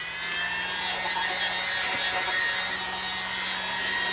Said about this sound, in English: you pull out the world's smallest blower